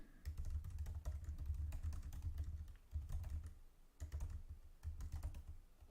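Fingers type a search into Google on a computer keyboard, a quick run of close clicking keystrokes in short bursts separated by brief pauses.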